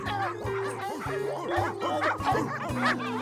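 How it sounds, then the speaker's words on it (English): Many dogs bark, yip and whimper all at once in a cartoon house full of strange dogs, an overlapping, crowded chorus of excited yelps that keeps going without pause. "The whole place was filled with strange dogs."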